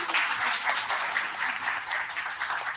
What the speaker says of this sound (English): Can we give them a great round of applause?